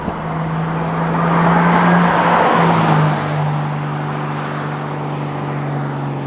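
A Mk3 Supra's engine drones steadily, swelling louder as the car passes close by, then settling back to a low idle-like rumble.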